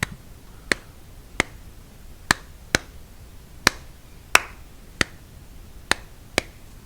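Sharp, isolated taps or claps at an uneven, syncopated pace, about a dozen strikes over several seconds, close and crisp with quiet gaps between, for tapping along with sticks or hands to a syncopated beat.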